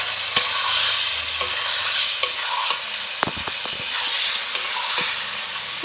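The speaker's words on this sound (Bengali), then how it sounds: "এখন আমি এর মধ্যে কেটে রাখা চিকেনটাকে দিয়ে দেবো।" Cut chicken pieces going into sizzling masala gravy and oil for chicken rezala, with steady frying hiss and sharp clicks of a spoon stirring against the pan.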